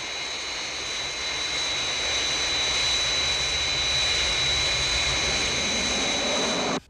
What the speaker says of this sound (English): Aircraft approaching glide path 5 miles to threshold.